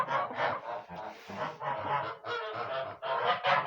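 Brahma chickens in a coop call out in a series of loud, harsh honking squawks, several overlapping birds close by with short pauses between calls.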